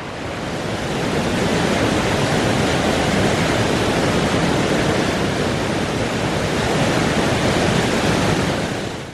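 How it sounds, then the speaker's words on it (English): A steady, dense roar of rushing water from Lick Falls on the Foothills Trail fills the whole stretch, loud and unchanging, with no voices. "Oh, another waterfall, Lick Falls."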